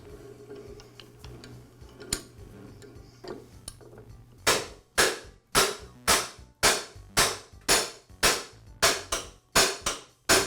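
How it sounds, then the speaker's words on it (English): Rubber mallet tapping the blade shaft of an MK Diamond tile saw out of its housing: about a dozen sharp, evenly spaced knocks, close and loud, after a quieter stretch of faint handling clicks. "can use my rubber mallet to tap the blade shaft out of the housing"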